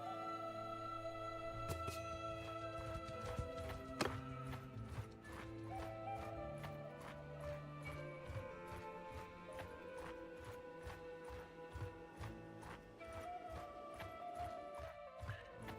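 Horse hooves clip-clop in a medieval video game, a steady run of hoof strikes over layered game ambience and music, with a whinny partway through, all fairly quiet.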